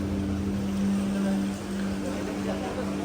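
A Kochi Water Metro electric boat docked for charging, a low steady hum with a constant tonal drone and soft water wash, while a voice talks faintly over it.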